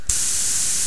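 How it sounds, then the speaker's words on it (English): Air from an airbrush compressor hisses out in a loud, steady spray that starts abruptly after a brief pause and holds unbroken to the end. "I could sit here and spray out the air till it does come on"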